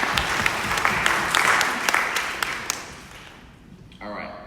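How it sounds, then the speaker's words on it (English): An audience claps for Keith at a re-entry and recidivism event, a dense round of applause that gradually thins and fades before a voice begins speaking at the end. "Big round of applause for Keith."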